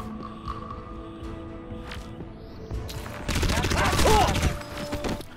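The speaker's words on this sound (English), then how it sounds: "At the start of the game, you are outfitted with your SCAR, which is nicely designed and really satisfying to fire." Bursts of SCAR assault rifle fire in the 2007 shooter game Crysis, a loud rapid automatic volley erupting after quieter moments, with someone speaking over the game sounds.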